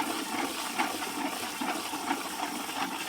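Dirt is stirred steadily in water while panning for gold, producing a continuous sloshing, churning wash with soft rhythmic surges and no talk.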